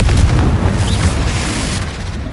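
In the Hogwarts Legacy video game on PS5, a Confringo blasting spell explodes as a loud, rumbling boom that lingers and slowly fades. The blast plays alone, with no voices.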